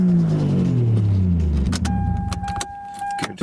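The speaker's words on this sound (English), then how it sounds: "Just going to turn the car off because I think it's warm." A warm car engine is switched off: its idle rumble winds down and fades out, followed by a chime tone, keys jangling and small interior clicks in the quiet cabin.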